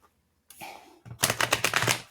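A tarot deck is shuffled close by: a soft slide of cards, then a quick burst of rapid riffling clicks that patter for about a second.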